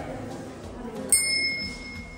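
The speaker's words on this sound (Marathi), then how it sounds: "घंटी जास्तच मोठी झाली." At a Hanuman temple, a single struck metal bell rings once, bright and close, then its clear tone hangs and slowly fades over a low background murmur.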